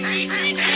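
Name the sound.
ducks flushed into flight by a peregrine falcon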